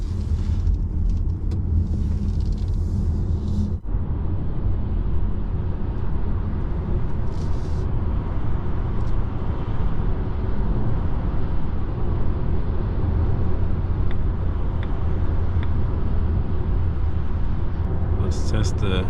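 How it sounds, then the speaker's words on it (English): Volvo EX30 Twin Motor Performance Ultra AWD electric car (2024) cruising on a highway, with steady low road rumble and tire noise continuing throughout, with no break. "Let's take the car on the highway."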